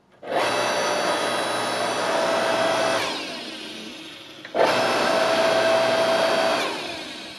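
An Earthquake 32228 electric log splitter runs with a loud, steady motor whine, cuts out briefly near the middle, then starts up again and runs on at close range.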